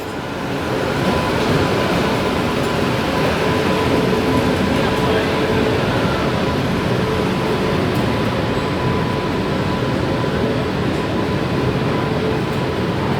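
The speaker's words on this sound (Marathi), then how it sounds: "ट्रेन आपली इतरसीवरून सुटली आहे" The 12167 LTT Banaras SF Express pulls out of a station, a steady, loud rumble of wheels and carriages that holds evenly for the whole stretch with no voices.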